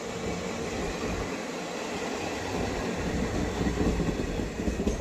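A non-stop special train overtakes on a parallel track beside a moving Indian intercity express, giving a loud, continuous rumble and roar of rolling wagons that swells toward the end.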